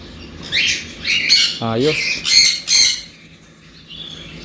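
Pink parakeets and other pet birds at a pet market in Malabon, Philippines, give several loud, close squawks and chirps in quick succession, with a short spoken word partway through.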